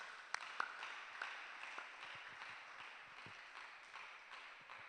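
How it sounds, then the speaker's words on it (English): Audience at a regional higher education conference applauding a fellowship award, soft scattered clapping from a fairly distant crowd that holds steady for a few seconds with a few sharper claps early on. "Let's clap for him"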